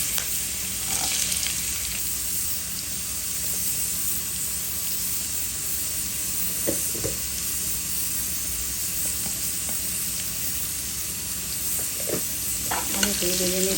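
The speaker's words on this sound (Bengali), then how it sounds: "আলুটা ভেজে নিব আগে।" Potatoes fry in a pan with a loud, continuous sizzle and hiss of hot oil, steady throughout, with occasional scraping clinks as they are stirred.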